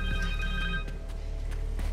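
A cell phone rings in the superhero game Marvel's Spider-Man 2, a tonal electronic ringtone clearly heard under ambient game sound for about a second before it cuts out.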